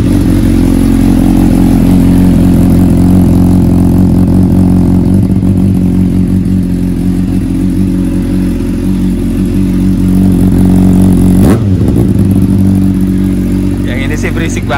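A loud race motorcycle engine idles in neutral and revs steadily with a deep, rough drone, briefly surging near the end.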